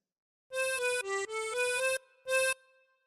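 Solo tremolo harmonica phrase from Bingo, a connected run of shimmering reedy notes stepping down and back up, then a pause and one final bright held note fading out.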